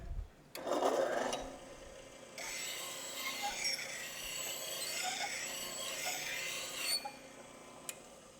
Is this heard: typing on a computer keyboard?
no